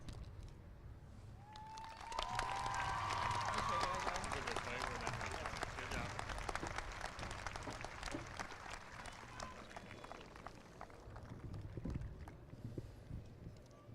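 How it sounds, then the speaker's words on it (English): Audience applause at a 2022 Waynesville High School graduation ceremony, a steady distant wash of clapping from a large crowd that swells after a couple of seconds and carries on throughout with faint voices mixed in. "Let's give one last round of applause for Sarah and Janice for their outstanding speeches"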